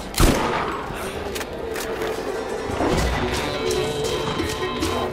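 Gunfire and impacts in the video game Borderlands during a fight, with loud sharp shots, crashes and rapid bursts over a dense, constant background of game sound effects and music.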